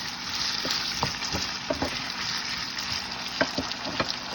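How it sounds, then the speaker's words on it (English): Tortilla española fries in a pan with kosher salt, giving a steady close sizzle broken by scattered soft pops and the occasional scrape of stirring. "you can hear it starting to fry"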